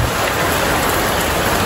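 Heavy rain pours steadily during a mountain thunderstorm, a dense, constant hiss of drops hitting surfaces, loud and close throughout with no gaps.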